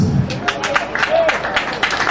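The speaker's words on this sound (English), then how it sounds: "Clap your hands." A congregation at a memorial service for a late church elder claps their hands in a steady rhythm, loud and close, with crowd murmur mixed in.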